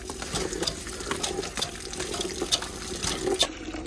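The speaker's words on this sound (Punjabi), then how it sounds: "ਪਾਣੀ ਦੇ ਚੋਣ ਬਿਲਕੁਲ ਹੀ ਖਤਮ ਹੋ ਗਿਆ, ਥੋੜ੍ਹਾ ਥੋੜ੍ਹਾ ਆ ਰਿਹਾ ਬਸ" Water trickles and splashes from a household tap running low, a faint, continuous wet patter with small irregular drips, heard alone.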